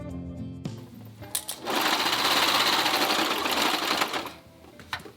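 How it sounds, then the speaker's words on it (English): A cover stitch sewing machine hems stretch fabric in one steady, fast, loud run of stitching, with brief mechanical clicks before and after it. "I'm using my cover stitch to hem"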